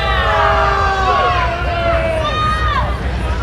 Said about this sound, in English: this crowd is getting into it, booing the heck out of Cam Stewart over here